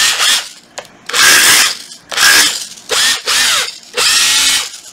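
A Makita 162 14.4V cordless concrete drill runs in five loud, close bursts of high whirring, separated by short pauses, with no voices.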